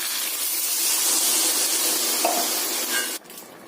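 Water poured over roasted lapsi fruit in a pan hisses and bubbles loudly as it begins to boil, a steady frothy sizzle that cuts off abruptly near the end.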